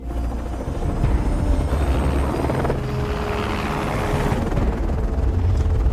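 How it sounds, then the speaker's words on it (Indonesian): A helicopter in a film scene whirs loudly and steadily as it flies off, its rotor chop filling the soundtrack throughout with no speech. "Setelah Claire dan yang lain berhasil kabur menggunakan helikopter"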